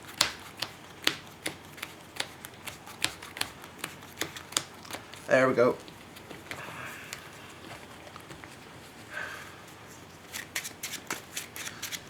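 Quick, crisp shuffles of a Yu-Gi-Oh card deck repeat in short bursts, with a brief spoken phrase partway through and a small rustling flurry in the middle.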